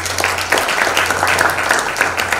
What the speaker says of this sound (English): Another round of applause for Professor Griffith,